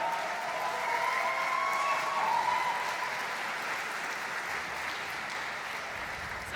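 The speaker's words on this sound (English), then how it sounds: "A round of applause for Marianne." Sustained audience applause at an awards ceremony for data journalism, a dense, steady wash of clapping from a large crowd, loud and continuous throughout with no talk over it.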